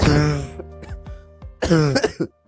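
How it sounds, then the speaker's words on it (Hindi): An elderly man coughs in several harsh bursts, with a short pause between fits, loud and close, plus some throat-clearing sounds. "सुबह से खांसी आ रही है"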